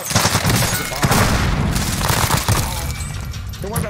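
A grenade goes off during a Call of Duty Warzone firefight, a loud sustained burst of blasts and gunfire that fills the whole clip.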